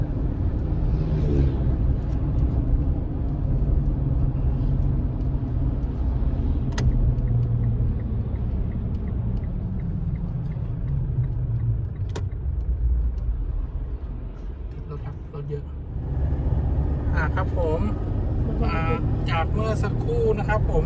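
Linglong Crosswind 285/75 R16 mud-terrain tyres hum and roar steadily on the road while driving. The rumble dips briefly, then returns, and someone talks over it.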